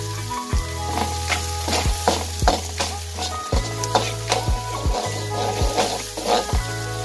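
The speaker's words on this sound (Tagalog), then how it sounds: "Lutuin muna natin ang ating onion guys." Onions sizzle steadily in a hot pan, with repeated sharp scrapes and clacks of a spatula stirring through the crackle, close and fairly loud with no voices.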